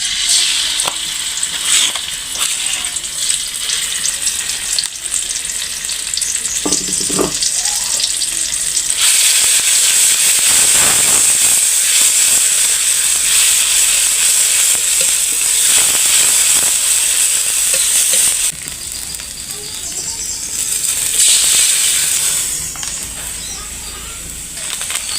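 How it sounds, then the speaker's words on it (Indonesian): Spice paste for a jengkol semur sizzles and hisses loudly in a hot pan while it is stirred, giving a steady bright frying noise punctuated by scraping and stirring clatter. The intensity swells and eases at times. "Kita tumis dulu bumbunya."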